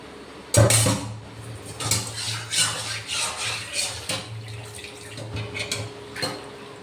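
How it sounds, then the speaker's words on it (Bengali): Hot water is drained off boiled ash gourd in a kitchen, heard as a sharp pot clank followed by irregular splashing and metallic knocks of moderate loudness, close by, without talk. "জল ছেড়ে গরম অবস্থা থেকে তুলে ঠান্ডা হতে এই জলটা ফেলে দেবো।"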